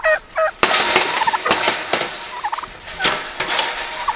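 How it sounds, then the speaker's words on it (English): Turkeys gobble repeatedly in rapid, warbling bursts, fairly close and loud, with a few short higher calls mixed in. "Turkeys, you can stay out there."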